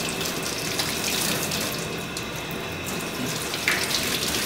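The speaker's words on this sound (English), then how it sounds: "So we're going to just take this and rinse it really well." Tap water runs steadily into a sink, rinsing an etched metal intaglio plate, a constant close hiss and splash with a few small knocks and no talk.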